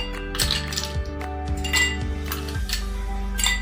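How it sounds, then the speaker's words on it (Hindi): Ice cubes dropped into a glass for Dalgona coffee, several bright clinks in a row as three or four cubes land and knock against the glass, close and clear with a steady hum underneath. "ये ग्लास में हम थोड़ा सा आइस क्यूब डालेंगे।"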